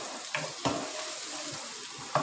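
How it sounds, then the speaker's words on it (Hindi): Onions fry in a pan until lightly browned, giving a steady close sizzle with a few sharp stirring scrapes. "यहाँ पर लाइट से ब्राउन करूँगी मैं प्याज को"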